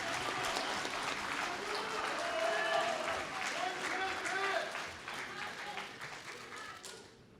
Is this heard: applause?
yes